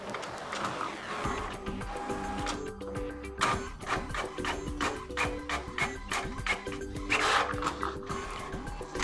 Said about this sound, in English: For example, I'll print network configuration page.